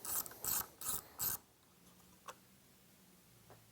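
A ratchet backs out bolts from the dash cap of a KTM 790 Adventure: four quick, close bursts of rapid clicking in a row, then near silence with a faint tap.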